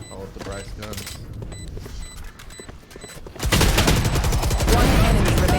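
Gunfire in a Valorant esports match, with scattered shots and ticking game effects at first, then a dense, loud rapid burst of automatic fire in the second half, with a caster's voice talking over it.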